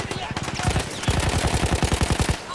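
Machine gun fire in Battlefield 1, rapid bursts of close, punchy shots that start loosely and then run as a steady stream for about two seconds.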